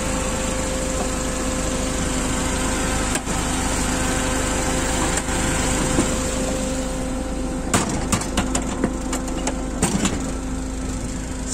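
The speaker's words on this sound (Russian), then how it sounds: "Довольно очень простой карбюраторный двигатель." Carbureted petrol engine of a one-ton Sumitomo FG10 forklift idling with a steady, close hum and vibration, with a few light clicks and knocks near the end.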